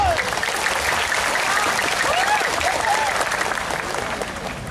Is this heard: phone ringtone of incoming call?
no